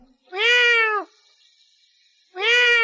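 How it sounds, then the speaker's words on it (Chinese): A cat on a neighbouring rooftop gives two long, drawn-out meows, each about a second long, separated by a quiet pause. Both cries are loud, clear and close, with an even, unwavering pitch. "又听到了隔壁天台上传来了一阵猫叫声"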